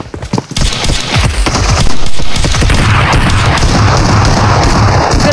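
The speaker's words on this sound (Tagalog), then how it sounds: "Binaril-baril yung crate mo, Gon." Dense rapid gunfire from PUBG on the Erangel map, shots raking a supply crate in a loud, sustained fusillade of overlapping bursts and booms that builds and continues without pause.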